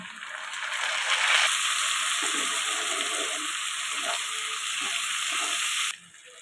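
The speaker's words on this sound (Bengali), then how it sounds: "পেঁয়াজটা তাড়াতাড়ি ভেজে নেওয়ার জন্য একটু নুন দিয়ে দিলাম" Onion sizzling steadily in a hot pan with chopped garlic, ginger, green chilli and tomato, a dense continuous fry with faint stirring scrapes, close and fairly loud, stopping abruptly near the end.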